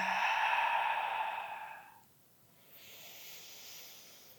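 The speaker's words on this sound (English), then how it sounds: "Now you may notice I'm making a lot of sound with my inhale and exhale." Loud breathing during a mindful adaptive yoga exercise: a long, breathy exhale fades out, a short pause follows, then a quieter airy inhale begins, all close to the microphone with no talk.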